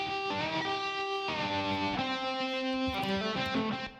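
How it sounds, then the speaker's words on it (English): Electric guitar solo, played through a room reverb with tremolo pulsing across the whole signal, sustained bright notes shifting in pitch over about four seconds, loud and up front with no talking. "I've got the actual room reverb plugin, then the tremolo. So the tremolo is affecting the entire signal."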